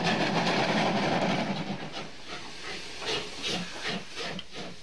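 A class 58 steam locomotive starts off, its loud steam hiss and rhythmic exhaust chuffs building as the heavy engine struggles to put its power onto the rails.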